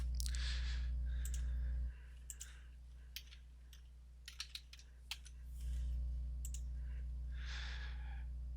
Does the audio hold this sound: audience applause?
no